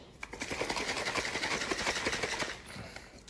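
Blender mixing a meal-replacement shake with water, a close, buzzing motor whir that runs steadily for about two and a half seconds before winding down.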